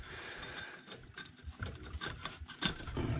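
A ratchet fitted with a 10mm socket clicks in quick bursts while tightening a bolt on a Toyota 5R engine in an RK110 Stout during water pump work, close and moderately loud, with no talking.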